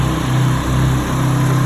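Two portable generators run side by side in parallel, giving a steady, loud mid-pitched engine drone with a constant hum and slight unevenness, close by and uninterrupted.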